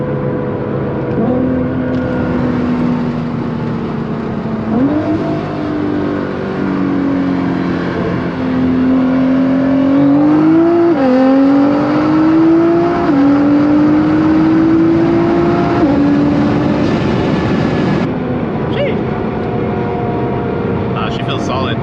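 A car pulls hard on a test run, its engine note climbing steadily in pitch with a brief shift-like dip partway, loud and close throughout, with people talking over it.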